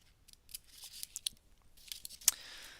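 Scissors snipping through paper, a series of crisp, close, irregular cuts with small sharp clicks and a louder final snip near the end, heard alone in a quiet room.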